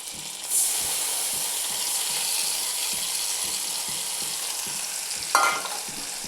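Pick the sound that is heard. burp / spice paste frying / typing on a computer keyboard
spice paste frying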